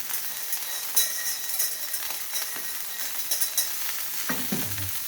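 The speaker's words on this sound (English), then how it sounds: "Then a bit of flour. You see I'm making a roux." A roux of flour being stirred in a hot pan, a steady soft scraping and sizzling close by with a few light clinks and a deeper rustle near the end.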